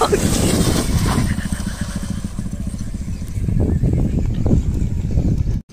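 Sport motorcycle engine revving steadily during an eagle fly stunt at an outdoor practice stunt track, loud and continuous with rising and falling throttle, while people talk over it.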